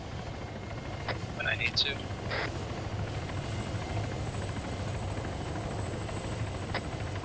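Helicopter rotor drone in the Arma 3 military game, a steady low thrumming under brief radio-style voices and a few sharp clicks.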